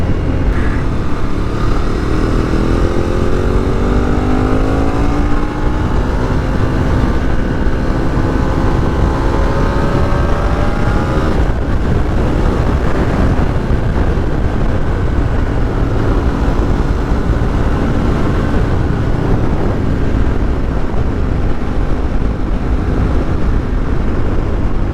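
Ducati 848 sport bike ridden through winding roads, its engine note loud and constant with rising and falling pitch sweeps as it accelerates and shifts through curves, wind rush underneath throughout.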